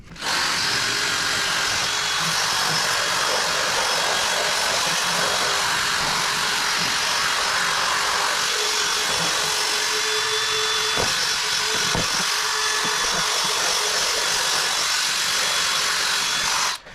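A power drill with a brush attachment whirs steadily, scrubbing a car floor mat, a continuous buzzing grind with a brief pair of knocks near the end.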